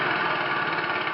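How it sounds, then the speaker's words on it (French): A radial engine idles steadily, a loud, rough, rumbling drone with an even rhythm, heard close up and alone. "Le moteur est en route et on entend ici bien sûr le son avec le joli ralenti de ce moteur étoile"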